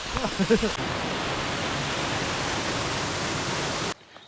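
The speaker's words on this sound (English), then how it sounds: "More waterfall flow." Dolgoch Falls waterfall flowing, a dense steady roar of rushing water that fills the clip and cuts off abruptly near the end, with a brief muffled voice at the start.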